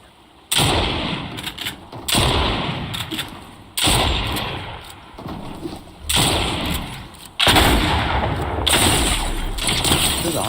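Gunfire in the Fortnite video game: several loud bursts of shots start abruptly and ring out in repeated waves, some sharp and some rumbling, with brief quieter gaps between them.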